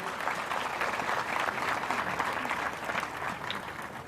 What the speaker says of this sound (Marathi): आपण सगळेजण आपल्या या शिवम प्रतिष्ठानसाठी एकदा टाळ्या वाजवून त्यांना अभिनंदन करूया